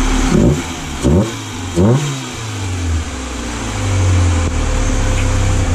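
A small engine runs close by, blipped through three quick revs that rise and fall before it settles into a steady, slightly labouring drone, with no talking.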